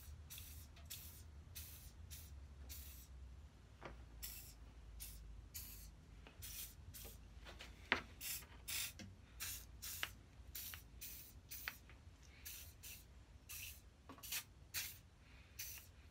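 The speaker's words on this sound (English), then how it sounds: "a bit of WD-40 is the first job" WD-40 lubricant is sprayed onto an old Lewin combination plane being restored, giving many short, close hissing bursts in an irregular rhythm over a faint low background hum.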